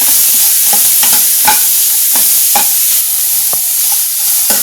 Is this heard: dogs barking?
no